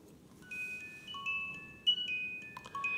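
A tinkling mechanical music-box melody from a Reuge automaton musical pocket watch plays in bright, clear notes, quiet and close, with soft whirring beneath.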